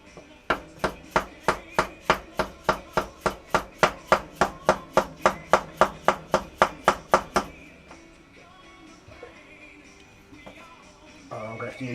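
A dead blow hammer taps a drift against a part on a Yamaha Virago XV1000SE motorcycle, about twenty evenly spaced, fairly loud knocks in quick succession, then stops, leaving quiet workshop background.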